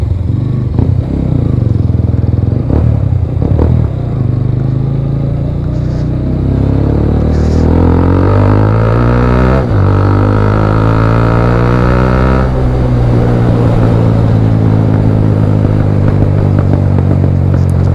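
A TVS Apache RTR 200 motorcycle rides off-road, its engine loud and close, revs rising and falling through gear changes with a constant rumbling drone.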